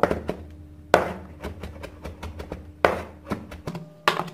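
Knife chopping ginger slices finely on a board for a fish curry, with quick bursts of close, crisp chops separated by brief pauses and no talking.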